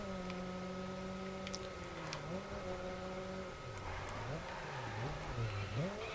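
Crossover SUV engine accelerating in a police racing video game, a mid-pitched drone that climbs in pitch, dips and revs again several times, with faint ticks over it and no voices.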